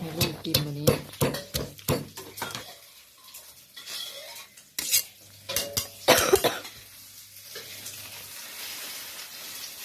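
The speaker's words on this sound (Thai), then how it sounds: "จะตำกุ้งแซ่บ" Shrimp salad pounded in a mortar and pestle, a run of sharp wooden knocks and clatter, dense early then sparser after a pause, with a cough and people talking nearby.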